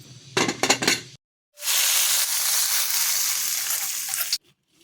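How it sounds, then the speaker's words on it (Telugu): A few quick metallic clinks, then a spice tempering for dal bursts into a loud, steady hiss in a pan that lasts about three seconds and cuts off abruptly. "పప్పుచారు మెదిపేసి పోపు పెట్టేశాను."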